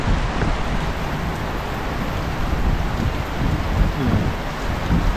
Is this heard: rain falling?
yes